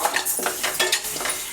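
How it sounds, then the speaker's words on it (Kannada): Rice dry-roasting in a pan for avarekalu akki uppittu, stirred with a utensil that scrapes and clinks against the metal in a steady, close, moderately loud rhythm, with no voices. "ಅಕ್ಕಿ ಈ ರೀತಿ ಹುರ್ಕೋಬೇಕಾಗತ್ತೆ"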